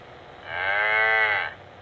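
A single long cow moo rings out alone for about a second, loud and close, with a rich harmonic tone that swells and then cuts off.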